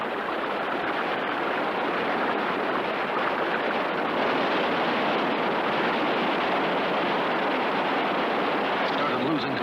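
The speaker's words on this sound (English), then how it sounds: "But the white water came up sudden." White water river rapids rushing in a continuous loud roar, broad and unbroken throughout with no pauses, surging close by.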